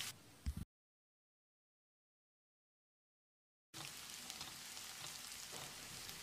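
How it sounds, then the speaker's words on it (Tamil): Onions fry in a pan with curry leaves, dried red chilies and green chilies, a faint, steady sizzle that starts after a long silent gap. "கொஞ்சமாக கருவேப்பிலை, 2 வரமிளகாய், 2 பச்சை மிளகாய், வெங்காயத்தை நல்லா பொன்னிறமாக வதக்கணும்."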